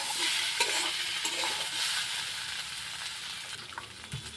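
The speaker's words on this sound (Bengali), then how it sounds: "এখানে আমি মশলা দেওয়া জল শুদ্ধ দিয়ে দিচ্ছি।" Spiced water poured into a hot pan of potol, potato and lentil-paste curry raises a broad, loud hiss that slowly fades. A few faint clinks sound near the end and no one speaks.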